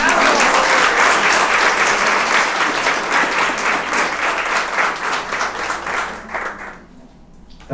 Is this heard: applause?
yes